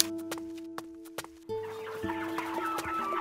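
Farmyard chickens cluck in short, repeated bursts over a tonal musical backdrop, fairly close, then a busier stretch of clucking and calls layered with the music.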